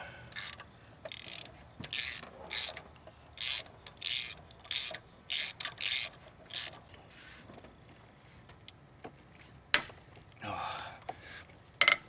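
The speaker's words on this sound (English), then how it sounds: "I just hope I don't break my ratchet." A ratchet wrench clicks in repeated bursts while loosening fasteners during a Pontiac Grand Am engine teardown, close and rhythmic, followed by a quieter stretch with a couple of sharp knocks and a final short burst.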